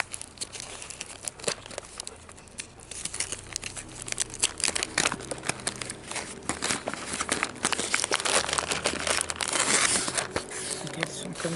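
A crinkly plastic packet of small dark-chocolate-coated nuts is handled and opened up close, with continuous crackling and rustling throughout, growing busier toward the end.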